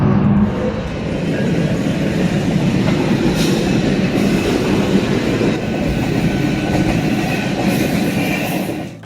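A train passes a railway crossing in a long, steady roar of wheels on track, with faint clickety-clack and occasional squeals over the continuous rumble, loud and close throughout.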